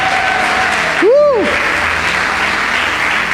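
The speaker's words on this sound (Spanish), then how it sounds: "denle ese aplauso más fuerte al Señor" Congregation applauding at an end-of-year church service, continuous crowd clapping heard throughout, briefly overlaid by a sliding whistle-like tone partway through.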